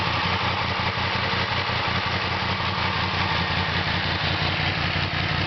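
A 2017 Yamaha FZ10 / MT10 with a modified exhaust and ceramic-coated header idles close by, a steady, loud, rumbling pulse that holds even throughout with no voices.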